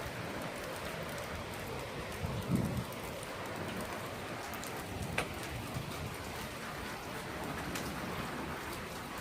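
Heavy Hurricane Matthew rain pours down in a steady, dense hiss with light wind mixed in and no voices, with one brief louder splash partway through.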